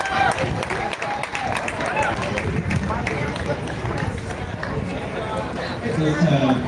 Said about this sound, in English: Please give another round of applause for Rhonda Hollister, Mrs. Turner, Emporia Starks.